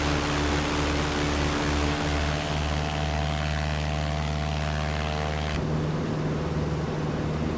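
Steady propeller drone of a simulated Piper Cub bush plane over Alaska, with strong harmonic engine hum that holds evenly and then shifts in tone near the end, no voices.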